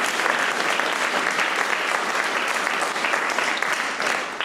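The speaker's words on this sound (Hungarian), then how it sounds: "neki is egy rövid tapsot kérünk szépen" Short round of applause from an audience at a small church event with a choir, dense, even clapping at moderate loudness, sustained throughout and tapering slightly at the end.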